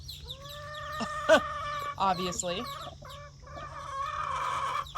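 Several hens cluck and croon nearby in overlapping bursts, with a brief spoken word partway through.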